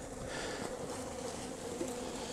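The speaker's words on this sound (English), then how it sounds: "it is a small group of bees" A small cluster of honeybees inside a beehive opened in winter, giving a steady, continuous close buzzing hum with no breaks.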